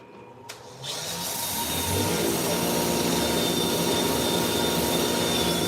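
A wood lathe spinning up for turning a live edge bowl, a low thump at start-up then a steady, loud motor whine and hum that builds and holds, with no voices.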